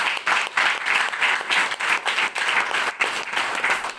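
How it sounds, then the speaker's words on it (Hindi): A Hindi-speaking audience claps loudly on cue, a dense burst of many hands that swells and dips in pulsing waves over a few seconds, with no talking. "जोरदार ताली होनी चाहिए।"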